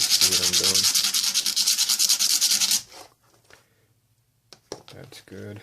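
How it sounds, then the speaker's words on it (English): Fast rhythmic scraping of sandpaper on a small LED, a steady back-and-forth rasp for about three seconds before it stops, followed by quiet handling and a few faint knocks. "I'm just going to take a little bit of sandpaper here because these aren't really sharp enough"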